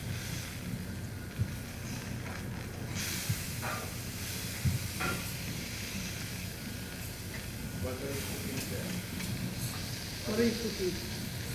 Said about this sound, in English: What am I cooking? I'm just frying the fish.